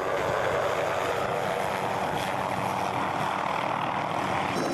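A helicopter carrying a repairman on a welded platform hovers near high-voltage power lines, its engine and rotor making a steady, loud broadband roar that continues unbroken with no voices.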